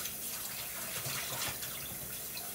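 Kitchen faucet runs steadily into a sink while corn is being cooked, a continuous hissing splash of flowing water, close and fairly soft, with no talking.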